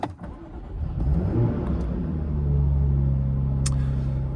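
A Jaguar F-Type V6 S engine cranks and fires up, then settles into a steady, low rumbling idle at slightly raised revs that holds evenly to the end.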